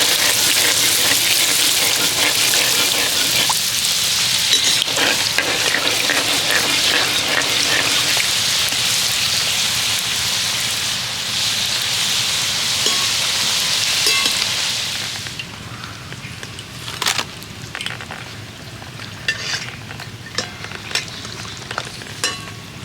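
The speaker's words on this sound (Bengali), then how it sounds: "তেলে দেওয়ার সাথে সাথেই ফুচকাগুলো ফুলে যাচ্ছে।" Puchka (fuchka) puris deep-frying in hot oil give a loud, steady sizzle and bubbling that fills the first fifteen seconds, then thins to quieter crackles and occasional pops.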